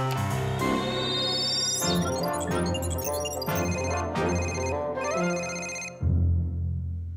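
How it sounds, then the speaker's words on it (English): A cartoon computer's incoming-call ringtone plays as a loud, bright electronic melody with stacked chiming tones, repeating its phrases steadily for about six seconds with no voices, then cuts to a deeper tone. "Didn't you know that you can call Johnny straight from your computer?"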